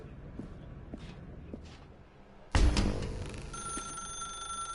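A telephone rings in The Stanley Parable video game, a loud steady electronic bell that starts suddenly partway through, after faint, sparse footstep-like taps in a quiet room.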